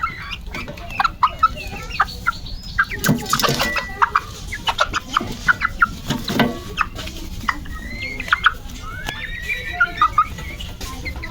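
Native desi chickens, about 70 days old, cluck and squawk restlessly up close while being handled and weighed one by one, with busy, irregular calls throughout and no talk.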